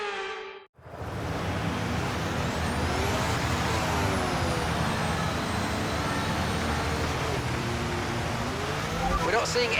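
An F1 23 racing car in the video game roars through a practice start, its engine surging into a loud, sustained high-revving scream after a brief cut, with the pitch shifting through gear changes as it pulls away.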